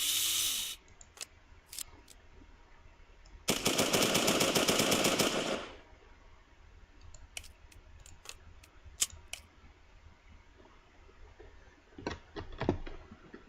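An MP40 submachine gun fitted with a suppressor fires a single loud rapid burst of about two seconds in a video game, with sparse clicks and handling noises before and after.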